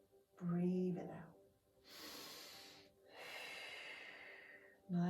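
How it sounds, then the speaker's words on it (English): Slow in-and-out breathing during a barre exercise, with steady soft breaths of air between brief spoken phrases, moderately close and fairly quiet. "So breathing in, breathing out. Breathing in, breathing out."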